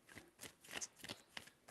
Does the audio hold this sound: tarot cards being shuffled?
yes